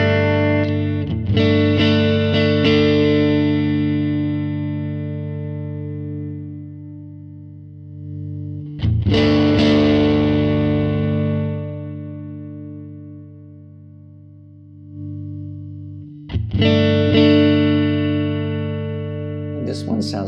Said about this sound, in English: this is a ToneRanger, I think, Blackface Super Reverb